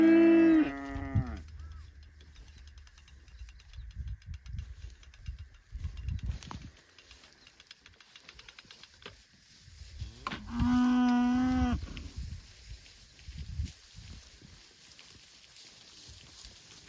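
Cattle being shifted on a farm during a flash drought: two loud, drawn-out moos, one at the start and one near the middle, with quieter shuffling and hoof noise between them and no talk.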